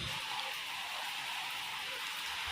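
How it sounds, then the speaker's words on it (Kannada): Heavy rain pours steadily near an apartment building, a dense, continuous hiss of drops that stays loud and even throughout with no voices. "ಜೋರು ಮಳೆ ಫ್ರೆಂಡ್ಸ್, ತಪ್ಪ ಹನಿ ಬೀಳ್ತಾ ಇದೆ ಇವತ್ತು"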